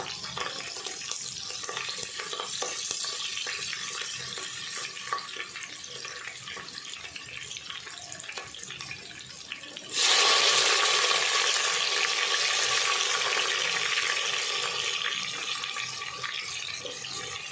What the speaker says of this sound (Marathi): आता लसूण आणि मिरची टाकून घेते लसूण थोडा लाल झाल्याच्या नंतर मग टॉमॅटो टाकते